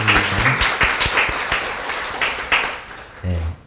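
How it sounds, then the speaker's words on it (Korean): A church congregation claps in a brief burst of applause, a loose flurry of hand claps that fades after a few seconds before a voice returns. "박수."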